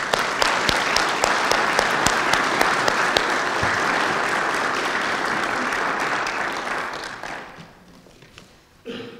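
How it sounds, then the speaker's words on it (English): A ceremony audience gives a full round of applause, dense and sustained at first, then thinning and fading out over the last couple of seconds, with no voices. "I ask you to please join me in a round of applause to show our appreciation"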